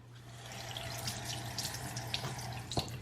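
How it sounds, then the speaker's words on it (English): A slow-running, partly clogged faucet runs water into a sink, a steady close hiss with occasional splashes and drips, heard alone. "So I'm gonna go ahead and turn on the water to have it fall out."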